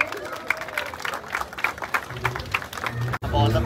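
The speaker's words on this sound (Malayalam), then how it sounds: "നല്ലൊരു ക്ലാപ്പ് കൊടുക്കണേ." An audience claps for the first delivery of a Bajaj Pulsar NS 400 at a launch function in Kerala, with scattered applause and crowd noise running under a voice on a microphone until a brief cut.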